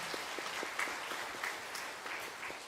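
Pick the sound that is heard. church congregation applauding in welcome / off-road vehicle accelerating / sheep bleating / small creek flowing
church congregation applauding in welcome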